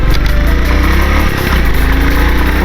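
A 2021 Royal Enfield Classic 350 motorcycle engine pulls in first gear with a steady, loud low thump under heavy wind rush, holding throughout with a brief dip midway.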